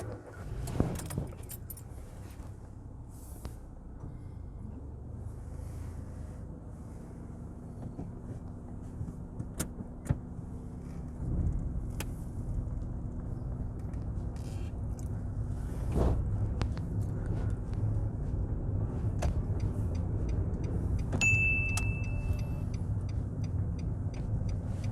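Keys jangle near the start, then a car engine idles and pulls away at a steady low rumble, with small clicks and ticks from the cabin during a UK mock driving test.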